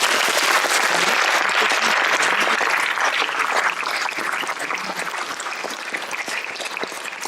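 Audience applauding performers before a theatre piece about Sacha Guitry, a dense, continuous clapping from a hall full of people, loud at first and gradually easing.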